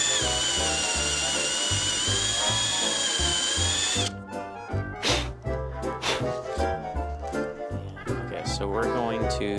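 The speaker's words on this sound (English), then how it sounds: "So I'm just gonna re-drill this hole so we don't have to do a bunch of stuff." Power drill re-drilling a hole in wood, a high steady whine for several seconds, then stopping and restarting in short bursts with clunks and handling noise.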